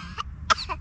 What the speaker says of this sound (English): where do your hands go when you're coughing